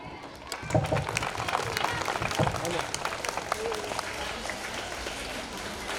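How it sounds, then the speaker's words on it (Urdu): An audience at a madrasa's annual function day claps to welcome the students, starting thin and then swelling into a strong, dense round of applause that keeps going, with some voices underneath. "ان کے استقبال میں ایک زوردار تالی"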